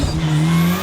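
A Porsche 718 Spyder RS or Ariel Atom 4R performance car revs its engine up close in winter conditions, a loud, rising drone with a sustained pitch climbing steadily, without talk.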